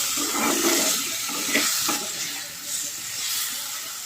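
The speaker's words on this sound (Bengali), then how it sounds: "এখানে আলু পটল একবারে মশলা দিয়ে কষিয়ে নিচ্ছি" Potatoes and pointed gourd sautéing with spices, with fish already fried, give off a steady, fairly loud sizzling hiss that swells and eases in waves, with no voices.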